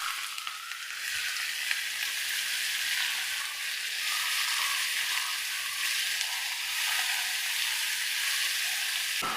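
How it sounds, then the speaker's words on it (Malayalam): Chopped onion with salt sautéing in a pan, a continuous bright, hissing sizzle held steady for several seconds, close and loud with no voices. "നല്ലപോലെ ഒന്ന് വഴറ്റിയെടുക്കാം."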